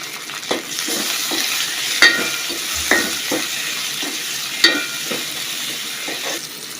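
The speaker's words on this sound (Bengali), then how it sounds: "পেঁয়াজ কুচি দিয়ে দিলাম একটু বাইজে নিতে হবে" Chopped onion frying in a pan for a magur fish curry, a continuous close sizzle broken by repeated scraping stirs, several of them sharp clacks of a spatula against metal.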